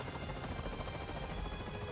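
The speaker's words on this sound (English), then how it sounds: "Actually got to the chopper itself." A helicopter in the video game Avatar: Frontiers of Pandora thrums with a continuous rotor chop, loud and close, filling the brief moment without voices.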